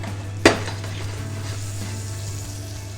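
Sugar cooking in melted butter in a pan gives a steady, fairly loud sizzle with a steady low hum underneath, and one sharp knock or clatter near the start, with no voices.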